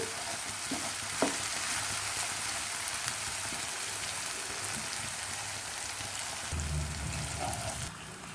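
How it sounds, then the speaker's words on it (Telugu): Mutton and masala fry in an open pan over onions, giving a dense, continuous close-up sizzle that sounds almost like rain, with occasional stirring clinks and a louder burst toward the end. "మసాలా అంతా బాగా వేగిపోవాలి"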